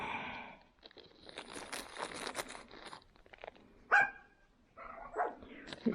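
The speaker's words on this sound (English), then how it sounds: "Excuse the dogs, they're playing." Dogs playing give a few sharp barks amid scuffling and crinkling noises, close by, with some quieter gaps between bursts.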